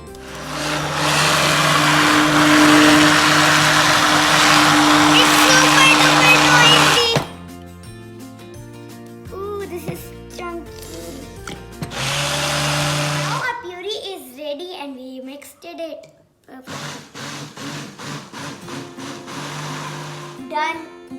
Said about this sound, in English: Done blending this, we did it.